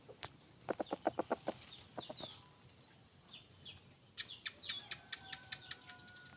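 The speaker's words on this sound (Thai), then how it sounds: "แต่ไก่ป่ามาครับ ไก่ป่ามา" Outdoor bird calls: a run of rapid clucking notes from wild junglefowl, followed by scattered chirps and a faint rustle, moderately distant with forest ambience.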